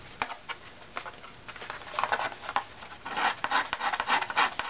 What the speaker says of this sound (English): Is a bit high, so I'll just scrape down here a little bit.